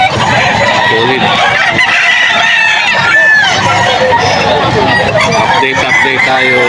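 Roosters and other fowl at a Bocaue, Bulacan chicken market give busy, overlapping crows and clucks throughout, with a noisy crowd and people talking close by.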